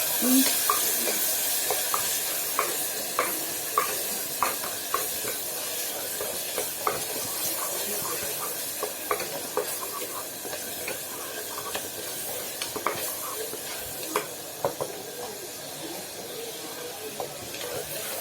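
Onions frying to a golden color in a pan, seasoned with salt, crackle with a steady sizzle and hiss, broken by frequent sharp clicks and scrapes of stirring throughout.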